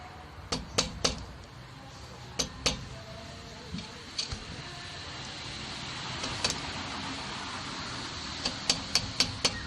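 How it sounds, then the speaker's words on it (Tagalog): A hammer tapping on a motorcycle brake caliper, a Sniper 150Fi, during brake pad replacement: sharp metallic taps in small clusters of two or three, spread across the clip, over a steady background hiss. "gagamitan lang natin ng martilyo"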